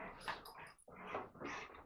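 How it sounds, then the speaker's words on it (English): Several excited dogs whimper, yip and whine while they play nearby, in two short overlapping bursts separated by a brief pause. "Sorry, my dogs are getting real wild, so if you can hear that in the background."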